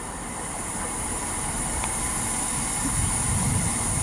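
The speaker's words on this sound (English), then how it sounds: "Right, passing through now. We've got some freight." A freight train passing through Barry Docks sends out a steady, loud rumble of wagons rolling along the rails, with a faint squeal partway through and the noise swelling toward the end.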